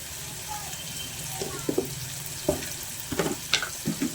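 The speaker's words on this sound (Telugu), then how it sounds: "బీన్స్ బాగా ఫ్రై అయిపోయాయి" Beans cooking in a pan for a Telugu-style beans curry, heard as a faint sizzle with intermittent clicks and scrapes of stirring.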